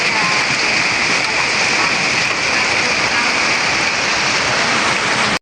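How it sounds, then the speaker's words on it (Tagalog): Steady, dense rainfall pours down close by, a loud unbroken hiss of drops on surfaces that stays constant until it cuts off at the end. "umuulan na naman"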